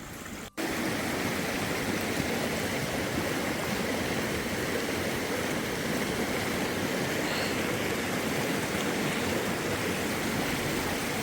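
A fast-flowing mountain stream at a trail water crossing on the Pacific Crest Trail, a loud, steady, broadband rushing roar heard up close and continuous, with one brief dropout near the start.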